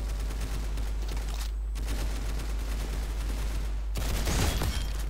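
Rapid bursts of gunfire from a Galil rifle and other weapons in the Roblox shooter Counter Blox, dense and continuous across the clip with a louder flurry near the end; no talking.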